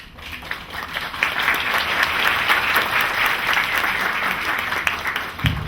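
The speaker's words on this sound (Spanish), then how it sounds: "Un aplauso más fuerte, por favor" Steady crowd applause after a scientific presentation at an international conference, a full, dense wash of clapping that swells and holds for several seconds before a speaker's voice cuts in at the end.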